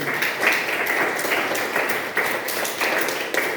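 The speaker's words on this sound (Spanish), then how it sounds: "Un aplauso para su compañero." Classroom audience applauding a student's presentation during a lecture on kidney damage and nephrotic syndrome, a steady, dense wash of clapping that holds at an even level for the whole stretch.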